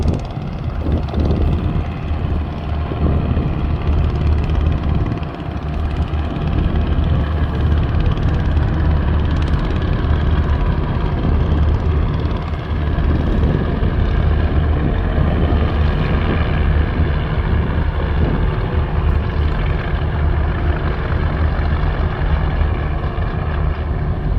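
The Karnaphuli 4 passenger river launch drones steadily with a loud, continuous engine rumble as it travels a river in Bangladesh. The rumble fills the whole stretch unbroken, with no clear talk over it.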